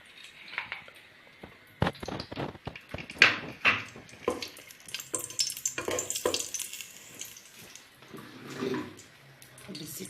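Meat sears in a pan with ghee and oil. An uneven sizzle runs throughout, broken by clattering stirs and scrapes of a utensil against the pan, with a watery bubbling swell toward the end.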